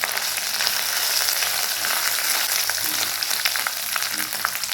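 Ginger, garlic and coriander paste fries in hot oil with a steady, dense crackling sizzle that holds at an even level throughout, with no talking.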